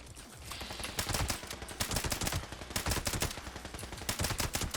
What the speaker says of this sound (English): every one of those shots did the maximum amount of damage that it could